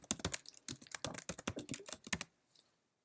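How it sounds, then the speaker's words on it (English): Quick bursts of typing on a computer keyboard, close and crisp, a dense run of clicking keystrokes for about two seconds that then stops, with no voice over it. "I'm going to type in photo montage."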